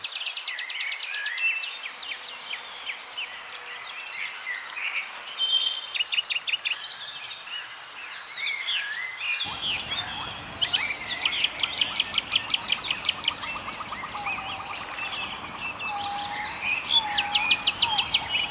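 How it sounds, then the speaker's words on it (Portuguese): Whistling bird calls ring out in a Serra da Canastra valley in Brazil in the early morning, repeated melancholy notes over a steady bed of insect chirring, with a low rumble joining partway through. "Suas vocalizações são assobios melancólicos que ecoam pelos vales nas primeiras horas da manhã"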